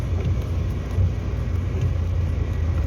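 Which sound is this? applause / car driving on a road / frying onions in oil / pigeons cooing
car driving on a road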